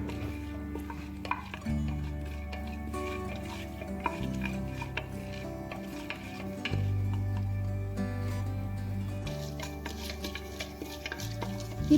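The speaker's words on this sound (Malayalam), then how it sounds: "നമ്മുടെ കടലപ്പരിപ്പും ഉഴുന്നും ജീരകവും കൂടെ ഇട്ട് കൊടുക്കണം. അതൊന്ന് ചെറുതായിട്ടൊന്ന് ഫ്രൈ ചെയ്യണം." Chana dal, urad dal and cumin fry in oil while a spoon stirs them in the pot, with a soft continuous sizzle and scattered light scraping clicks over a low background hum. Nobody speaks.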